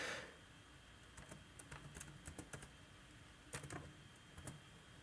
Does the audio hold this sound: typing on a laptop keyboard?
yes